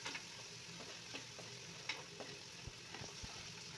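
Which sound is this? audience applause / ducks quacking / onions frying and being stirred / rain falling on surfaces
onions frying and being stirred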